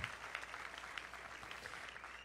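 A church congregation claps steadily in sustained applause, a soft, dense patter of many hands heard from some distance, with no voices above it.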